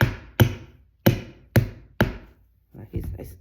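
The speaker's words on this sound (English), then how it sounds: "Hammer this one down." A hammer drives upholstery fabric down onto a foot stool frame: five loud, close, evenly spaced strikes with short ringing tails, then a pair of softer, duller taps.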